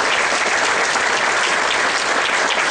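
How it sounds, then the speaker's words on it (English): A conference audience gives a round of applause for a data center networking panel, dense and steady clapping filling the hall from start to finish with no voices over it. "let's give another round of applause for our panel"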